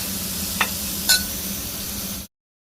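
A pan of brinjal egg curry with a pinch of turmeric being stirred, giving a steady low simmering sizzle with two brief spoon clinks against the pan, then sudden silence.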